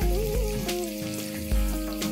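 Cumin seeds and coriander leaves frying in a pan for a raw tomato chutney, a steady close sizzle with a few sharp crackles and pops throughout.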